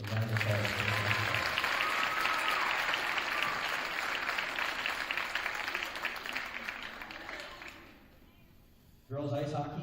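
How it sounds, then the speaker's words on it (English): An awards-night crowd at a school winter sports ceremony claps in sustained applause that gradually fades, then a voice begins speaking at the end. "So round of applause."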